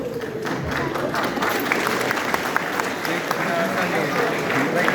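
Audience at a college storytelling event during IIT TechKriti fest applauds steadily and continuously, with crowd noise and voices underneath throughout.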